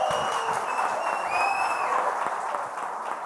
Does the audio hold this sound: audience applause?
yes